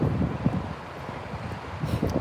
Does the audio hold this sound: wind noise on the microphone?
yes